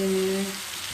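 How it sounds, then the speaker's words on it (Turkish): A pan of olive-oil pea stew with tomatoes sizzles softly while it is stirred, with a low hum fading away early and faint scraping under the steady frying hiss. "bu şekilde karıştırıyoruz yemeğimizi"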